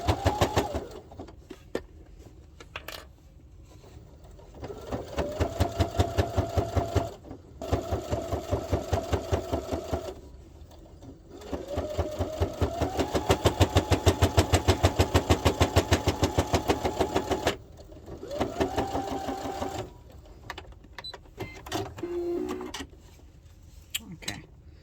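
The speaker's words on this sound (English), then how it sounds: "I'm going to sew along this edge about 1 millimeter away, and then that should catch the back of the bias binding." A sewing machine stitches along the edge of bias binding on a child's wallet at a 3 stitch length, running in several bursts of rapid steady needle clatter separated by short pauses, close and clear.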